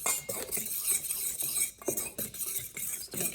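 A spoon or whisk stirs dry ingredients for vegan no-oil banana muffins in a bowl, quick rhythmic scraping and clinking strokes against the sides, close and fairly loud with brief pauses.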